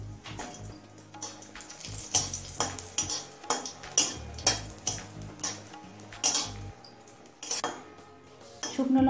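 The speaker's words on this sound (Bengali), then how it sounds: "এবার 5-6টা শুকনো লঙ্কা ভেজে নেব।" Dried red chillies frying in lightly heated mustard oil, stirred in the pan, with a metal spatula clinking and scraping in a steady, repeated rhythm close by; no one speaks.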